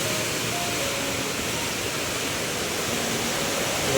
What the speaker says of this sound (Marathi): पाणी तर तुझ्याकडे वाहतो आहे